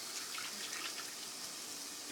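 Tamarind water pours into a pot of bottle-gourd kuzhambu as a faint, steady watery splash and trickle, alone and unbroken throughout.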